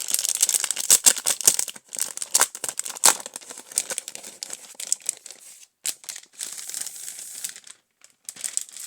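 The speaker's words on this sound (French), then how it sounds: "C'est le calendrier de l'Avent Pokémon. On va l'ouvrir." A cardboard Pokémon advent calendar with 24 doors is torn and opened by hand, giving a close, continuous run of crinkling, ripping and crackling bursts with brief quiet gaps.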